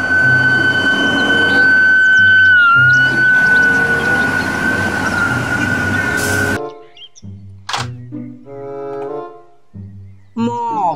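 A toy fire truck siren wails in a steady high electronic tone for several seconds, near and loud, then cuts off, followed by scattered clicks and brief bursts of sound from the toy.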